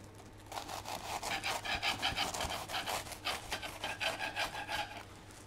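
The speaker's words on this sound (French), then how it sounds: "Et là, je vais venir donc scier." A knife sawing through rectangles of caramelized puff pastry, a continuous rhythmic scraping and crunching at close range with no voices.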